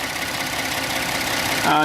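A small six-cylinder engine in a Ford F-150 idles steadily with a low, even hum, rising slightly in loudness near the end, with a voice speaking over it.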